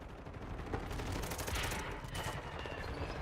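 Shotgun blasts in a first-person shooter video game, a quick flurry of faint, overlapping shots and gunfire rattling in the background over about three seconds.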